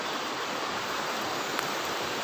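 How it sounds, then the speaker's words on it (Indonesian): River rapids in Subang rush in a steady, dense wash of white water, an even broadband roar with no voices. "Oh, itu arum jeram."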